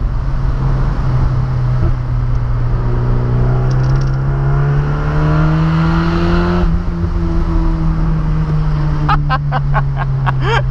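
A Mazda MX-5 with a 110 hp engine and no exhaust fitted runs loud and continuous, a deep droning engine note rising and falling in pitch as it revs, with a cluster of sharp clicks near the end.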